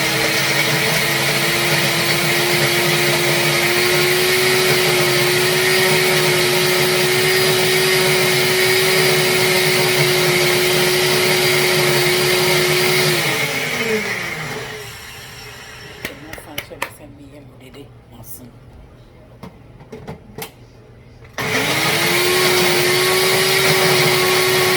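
A blender whirs loudly and steadily while pork ribs are being prepared, winds down halfway, leaving scattered knocks and clatter, then starts up again near the end.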